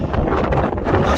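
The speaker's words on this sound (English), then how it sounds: "I'm not sure you'll even be able to hear me because it's quite windy." Wind blows hard across a hilltop near abandoned mines, buffeting the microphone with a continuous rumbling roar that swells and dips unevenly through the short stretch, loud and close, with no voices.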